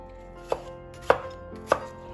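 A green pepper being cut into large pieces on a board: three sharp, evenly spaced knife chops, close and clear, with no talk.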